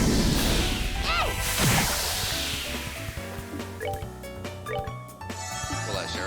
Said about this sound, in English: And then we'll cast Aqua Bleed on this water.